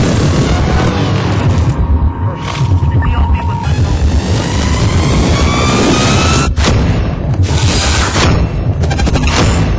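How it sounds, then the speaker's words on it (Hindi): New Year fireworks over Hong Kong: a dense, continuous roar of booming bursts and crackling fusillades, loud and sustained throughout, with some rising whistles mixed in. "खूबसूरत आतिशबाजी, इस अंदाज में हांगकांग में नए साल का स्वागत किया"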